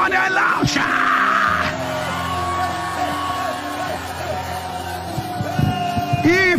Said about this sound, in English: Give the Lord a loud shout.